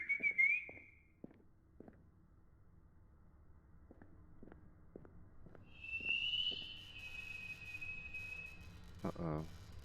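A short two-note whistle opens a quiet stretch of the horror game Lost in Vivo, with scattered soft taps and footsteps following, then a longer, fainter answering whistle rises from the distance before a brief rasping burst.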